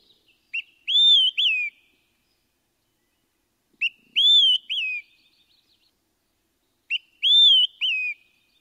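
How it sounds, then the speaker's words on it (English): Olive-sided flycatcher song, a clear three-part whistled phrase, a short note followed by two longer slurred whistles, repeated three times at steady intervals with silence between, alone and fairly close. "Olive-sided flycatchers say either quick 3 beers or quick free beers."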